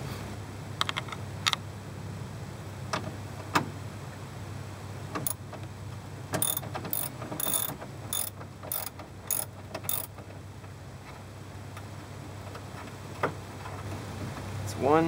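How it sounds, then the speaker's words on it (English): Ratchet wrench loosening the fan shroud bolts on a Jeep during a water pump change: a rapid burst of sharp metallic clicks near the middle, with scattered single clicks and taps before and after, close over a low steady hum. "So now we're going to unbolt the fan shroud."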